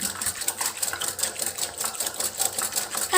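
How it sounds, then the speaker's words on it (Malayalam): A small whisk beats a single egg in a bowl for a veg cutlet mix, giving a steady run of quick, close ticking and clicking strokes that continue without pause. "ഞങ്ങളിവിടെ ചെറിയൊരു വിസ്ക് എടുത്തിട്ടുണ്ട്. അപ്പോൾ ഒന്ന് മിക്സ് ചെയ്തെടുക്കുകയാണ്."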